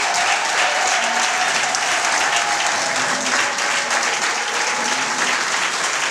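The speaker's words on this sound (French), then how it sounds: "J'invite donc toute l'assistance à saluer sa présence par des acclamations et des cris." Applause from a large crowd at a public gathering welcoming a provincial governor in Lualaba, a steady dense roar of clapping and cheering that holds at full loudness throughout with no speech.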